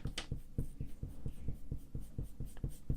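A glass pen scratches across paper while drawing a portrait, making soft, close strokes that repeat in a steady rhythm of quick scrapes with no voices.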